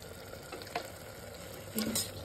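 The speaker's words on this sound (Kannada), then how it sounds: "ಮಿಕ್ಸ್ ಮಾಡ್ಕೊಳ್ಳೋಣ ಇದನ್ನು" A mushroom pulao mixture being stirred in a pan, soft scraping strokes over a faint sizzle, with a louder stir near the end and no talking.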